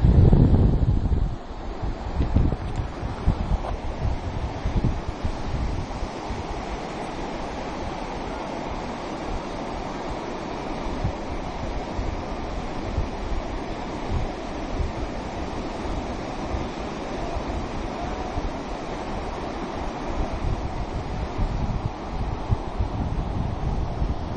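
Ocean waves roll onto a beach with strong wind buffeting the microphone, a loud steady roar of surf and gusts that stays constant throughout with no voices.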